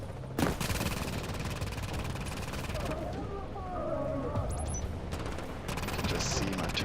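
A deployed turret in The Division fires steady bursts of automatic gunfire at enemies, rapid loud shots running through most of the stretch with brief gaps, over background game noise.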